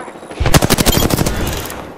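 A loud, rapid burst of automatic weapon fire in the battle royale game Apex Legends, a dozen or so quick shots in about a second, then trailing off.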